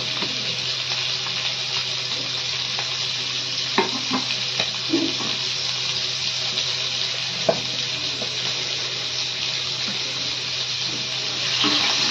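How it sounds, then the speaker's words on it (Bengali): Spices fry in oil for a prawn curry, giving a steady, loud, close hiss with occasional soft clinks and stirring scrapes and no talk. "একদম এই তেলটাতেই মশলা কষিয়ে নেব।"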